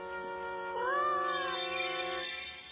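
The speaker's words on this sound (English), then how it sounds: "That is not just a cat. It's the Cheshire Cat" The cartoon Cheshire Cat gives one long, clear, drawn-out meow with a rising and falling pitch, close and loud, with no talk.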